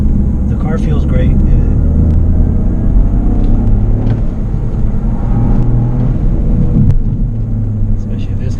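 A Toyota GR Corolla drives through corners on a mountain road, its engine a steady low rumble with rising and falling tones, heard from inside the car under a voice.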